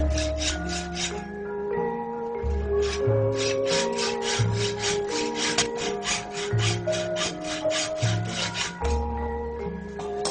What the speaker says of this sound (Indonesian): Pembentukan bagian peksi diawali dengan menggergaji pada pangkal bilah.